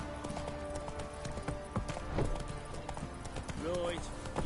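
Hooves of Roach, the horse in the video game The Witcher 3, clip-clop in a steady rhythm, with a brief whinny near the end and people talking over it.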